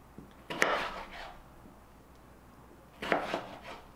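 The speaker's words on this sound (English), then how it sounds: "I'm just gonna finish cutting up these two potatoes" A knife cuts potatoes into fry sticks on a board, two crisp chopping strokes about two and a half seconds apart, close and fairly quiet.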